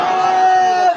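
A crowd at a religious speech gathering shouts back a loud, sustained collective response to a slogan, one continuous roar lasting about a second before cutting off.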